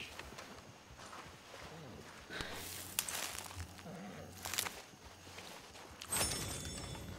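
Horse hooves clip-clop at a steady walking rhythm in Red Dead Redemption 2, moderately close, with a faint voice now and then over the steps.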